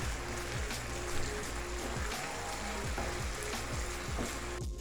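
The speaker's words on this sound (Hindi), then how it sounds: "प्याज को सिर्फ 1 या 2 मिनट के लिए इसके साथ ऐसे पकाऊंगी" Onions cooking in a pan for an aloo anday salan, a dense close sizzle with regular rhythmic stirring strokes sweeping through the oil, no one speaking.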